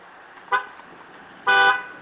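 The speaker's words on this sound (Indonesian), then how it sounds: "bunyi klakson" A Peugeot 5008 Allure Plus car horn sounds twice: a short tap and then a longer blast of about a quarter second, both loud and close, with quiet cabin ambience in between.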